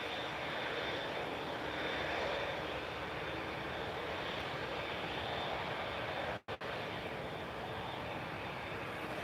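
Airbus A320 airliner at Lisbon Airport on a cloudy, windy evening, a steady broad jet engine roar holding loud throughout with one abrupt brief dropout partway through.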